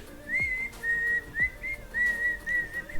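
A person whistles a tune up close, clear sustained tones with short gaps between phrases and a few faint knocks in the background.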